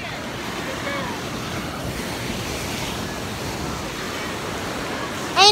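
Ocean waves and surf wash in a continuous broad roar on a beach, mixed with wind buffeting the microphone, steady and close, ending in a brief louder burst.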